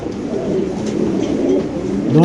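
Fancy pigeon held up for sale, cooing close by in a low, throaty warble under a background voice, with a brief sharper call near the end.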